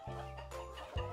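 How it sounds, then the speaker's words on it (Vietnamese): Young farm chickens, a couple of months old, give a few low, close clucks in a short burst at a poultry farm pen, quiet and without talk over them. "Gà tơ nè."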